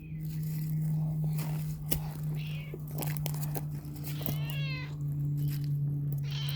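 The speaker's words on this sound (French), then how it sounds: "Voilà un petit chat qui demande des doudous." A small cat in the woods meows a few times between soft spoken French words, with a steady low hum running under the faint mews and quiet rustling.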